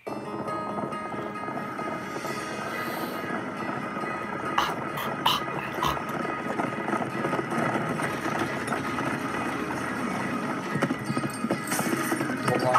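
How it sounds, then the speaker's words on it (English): Horse clip-clop hooves and a brief whinny in a country-rap song, running steadily through a full music mix at moderate loudness. "That's a horse horse."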